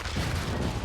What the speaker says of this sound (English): First explosion for LucifroN